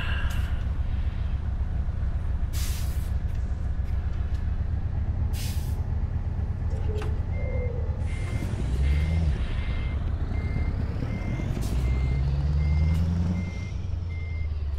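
In Euro Truck Simulator 2, a truck backs a trailer into a delivery spot, its steady engine rumble overlaid with repeated high reversing beeps, hisses of air brakes and shifting engine tones throughout.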